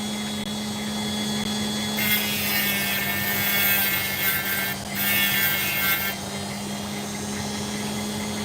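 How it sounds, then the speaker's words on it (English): A saw trims an old opal doublet, giving a steady grinding hiss that swells louder for a few seconds in the middle, over a constant low motor hum. "This is one which is a doublet that I'm just trimming."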